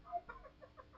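Chickens cluck in a short, faint series of soft, repeated calls over a low background hum.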